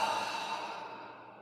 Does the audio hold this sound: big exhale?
yes